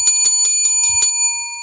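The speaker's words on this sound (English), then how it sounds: "Yeah, ring the bell." A bicycle-style bell rings in a quick series of about six bright metallic strikes with a sustained high ringing tone, close and clear, with no talking.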